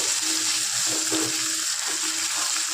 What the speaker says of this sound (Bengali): এই দেখুন বন্ধুরা, মামুনি পেঁয়াজ আর টমেটোটা ভালো করে তেলের মধ্যে নেড়ে নিল একটু